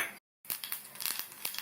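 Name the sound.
mustard seeds spluttering in hot oil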